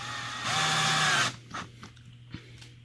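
A power drill drives a small 5/8 screw into a jar lid for a wooden carpenter bee trap, with one short, whining burst close by, followed by a few faint clicks and taps as the tool settles.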